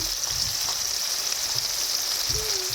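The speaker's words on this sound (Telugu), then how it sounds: "ఇవన్నీ బాగా వేయించుకోవాలి" Tomatoes, chana dal, urad dal and mustard seeds fry in hot oil, a steady close-up sizzle with faint occasional stirring taps and no talking.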